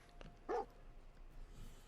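Dogmeat, the dog companion in the video game Fallout 4, gives a single short, faint bark over quiet game ambience.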